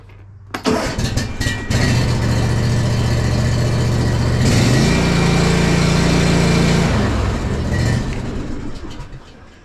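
A lawn mower engine with its choke pulled on a cold spring morning sputters, catches and settles into a loud, steady idle with a shift in pitch midway, then fades toward the end.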